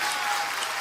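A church congregation applauds, a dense, steady wash of clapping filling the short moment.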